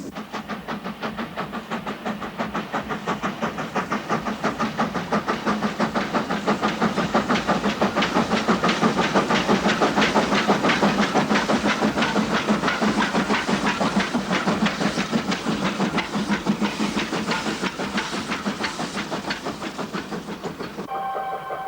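Indus Express passenger train hauled by locomotives, with one loco placed at the rear, rolls steadily past with a continuous loud rumble, hiss and rhythmic clickety-clack of wagons over rail joints, no voices.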